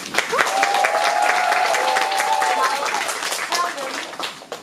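An audience at a musical's closing curtain call claps steadily for several seconds, with a voice carrying over the applause before it thins out.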